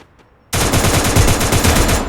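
Loud, rapid automatic gunfire from a shooting video game starts abruptly after a short quiet moment and continues as a sustained, dense burst.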